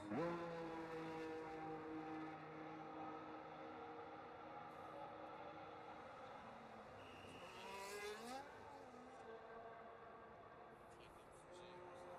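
Racing car engines in a racing video game, on a reversed Netherlands track, whine and shift pitch steadily, with tires squealing briefly near the middle; no one speaks.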